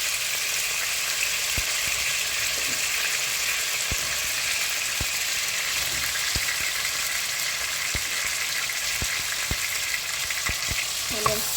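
Garlic and red onion frying in a pan for a Ugandan courgette and chicken dish, a steady, dense sizzle throughout with occasional sharp clicks of a utensil stirring against the pan.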